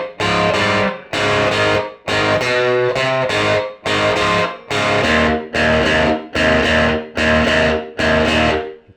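A distorted electric guitar plays a blues-rock riff, loud, chunky chord stabs in a steady repeating rhythm, about ten punchy bursts, each cut short by brief gaps.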